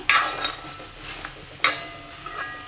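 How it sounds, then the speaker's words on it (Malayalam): A spoon stirring okra stir-fry in a pan, with scraping clinks of metal on the pan, two sharper hits and a soft sizzle underneath, close by. "ഇതേപോലെ നമ്മൾ ഇടയ്ക്കിടയ്ക്ക് ഇളക്കി കൊടുക്കാം"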